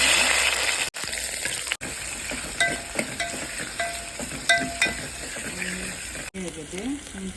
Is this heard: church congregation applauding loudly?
no